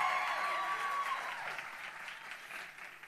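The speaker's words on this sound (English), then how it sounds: "I think we need a louder round of applause for our guest of honor this morning." Warm applause from a morning audience for guest of honor Bonang Matheba, steady clapping that is fairly quiet and fades slightly toward the end.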